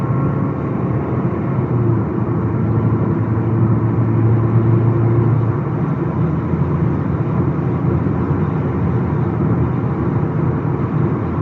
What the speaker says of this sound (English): So now put my foot down, just get it up to 70 miles an hour